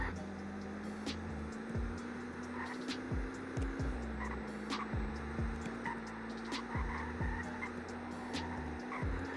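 A car driven hard on a highway at speed with traction control off, weaving between street lights; a steady engine drone runs throughout, broken by repeated short sweeping swooshes as it passes objects, with faint tire noise.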